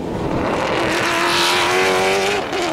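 A race car on the main straight of a Panama circuit during a Gran Turismo category heat, its engine holding a loud, steady, rising tone close by, with no other sounds standing out.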